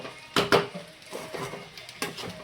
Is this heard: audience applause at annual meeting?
no